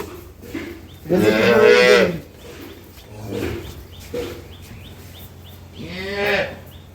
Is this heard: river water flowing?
no